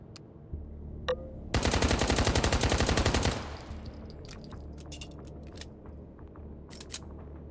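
Automatic Makarov pistol in the VR shooter H3VR, one loud rapid burst of about two seconds of fully automatic fire, preceded by a few small clicks and followed by faint mechanical handling noises.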